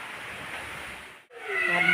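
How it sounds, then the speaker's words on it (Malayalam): Strong wind and rain during a thunderstorm roar as a steady broadband rush, dipping briefly before surging again, with a faint tonal sound rising at the end. "നല്ല കാറ്റും മഴയാണ്"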